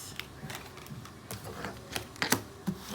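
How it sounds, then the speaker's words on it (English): Quick riffling clicks and soft taps of cards being shuffled, a rapid papery patter with a few sharper snaps, close by and fairly quiet. "that shuffle was kind of unbelievable there."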